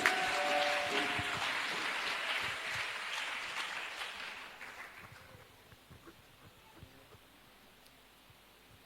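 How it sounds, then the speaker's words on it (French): A church congregation applauds for Jesus Christ: loud, dense clapping from many hands that gradually fades and thins out over several seconds into scattered claps, with no talking. "Acclamons pour Jésus-Christ"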